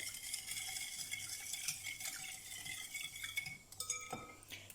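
Sugar, vanilla sugar and unscented vegetable oil stirred together in a bowl for a sweet yeast dough, a soft, steady scraping with light clinks of a utensil against the bowl, close and quiet.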